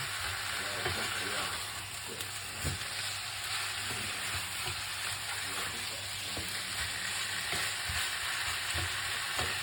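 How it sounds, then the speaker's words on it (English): Boiled food frying lightly in a pan, a soft continuous sizzle with occasional stirring clicks, fairly faint and steady with no talking. "this one is a cooked one, a boiled one, but I still fry a little bit"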